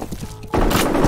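Gunfire in the shooter game FEAR, a sudden loud burst of rapid shots cutting in after a quieter moment, dense and close.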